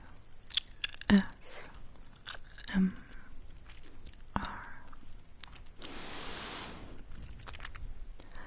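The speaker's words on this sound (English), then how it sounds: "It's really impolite to eat with my mouth open, but I think it will make nice sounds." Gum chewed close to the ear with the mouth open, giving soft wet smacks, clicks and bites spread irregularly over several seconds, with a breathy hiss near the end.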